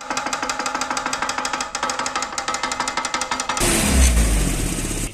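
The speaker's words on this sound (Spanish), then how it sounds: "A veces ni siquiera es grave y es una lámina que está suelta y se escucha así." A loose exhaust manifold heat shield rattles in a fast, steady metallic clatter on a running car engine, close and loud, before the engine revs up into a louder roar.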